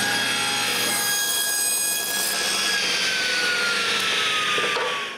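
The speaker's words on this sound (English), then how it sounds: "So for the posts, I begin by cutting some pine planks square." A steady, loud power saw whines continuously while cutting pine planks square for posts, its pitch gliding slowly downward as the blade works through the wood, with no voices.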